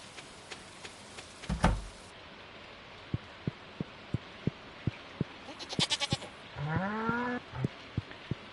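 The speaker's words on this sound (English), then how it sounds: "Yes, we now have a goat." A goat in the farming video game Stardew Valley gives a short wavering bleat amid soft rhythmic ticking game sounds and chimes, fairly quiet.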